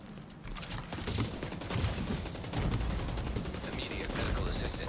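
Rapid automatic gunfire rattles in The Division 2, bursts of shots and mechanical clatter running continuously with a voice talking over parts of it.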